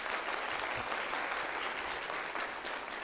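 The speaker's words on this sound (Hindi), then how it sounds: "पहले सवाल के लिए पहले ताली बजा देते हैं।" An audience at a cancer hospital event claps loudly and continuously for the whole stretch, a dense, even roar of hands close by.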